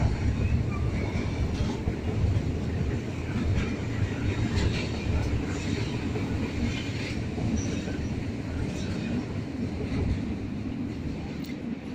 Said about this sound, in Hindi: और यहाँ पे जा रही है ट्रेन।